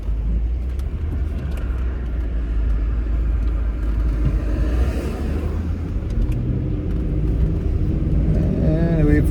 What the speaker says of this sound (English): when you drive a Range Rover with stock tires on it, it feels marvelous